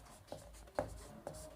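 Three short scratchy strokes of writing, faint and close, with quiet room noise between them and no talking.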